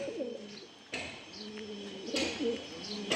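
Andhra Madrasi pigeons cooing inside a loft, soft low rolling coos repeating in short phrases at close range over faint background hiss.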